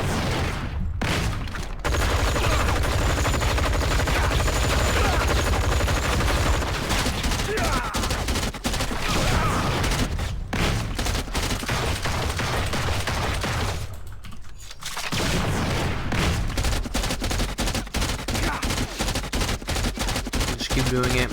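Punisher's rapid automatic gunfire in the video game Marvel Heroes, a loud, dense stream of shots continuing almost nonstop, with a few brief pauses for reloading.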